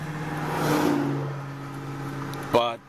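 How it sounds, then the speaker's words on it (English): A car passing on a road in Plattsburgh, New York near a road-rail accident scene, its engine swelling and fading at moderate distance, followed by a short sharp clatter as a voice speaks. "Just wait for these cars here."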